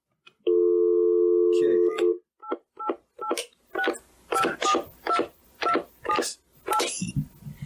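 Touch-tone telephone keypad dialing: a steady dial tone, then a quick string of about a dozen distinct DTMF beeps pressed one after another, loud and close with no talking.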